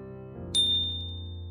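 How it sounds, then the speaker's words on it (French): A single bright notification bell ding rings out clearly over a low background tone, then its tone lingers and fades as a sustained ring. "activez la cloche de notification"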